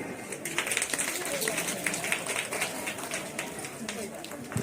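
An audience claps at a retirement celebration, a continuous spatter of many hands at moderate level, with some voices and background murmur mixed underneath.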